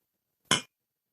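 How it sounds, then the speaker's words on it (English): A single short, bright clink of two drinking glasses, one holding wine and the other water, sounds alone against silence. "Like I have to supply my own clink."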